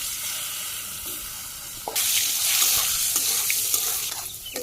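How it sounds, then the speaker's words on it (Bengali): Potato pieces frying in hot oil with a tempering of dried red chili and cumin, a loud sizzle that swells sharply midway as the potatoes go in, with scattered spoon scrapes. "এই যে ফোড়নের মধ্যে এই আলুগুলো ভাজি করে নেব"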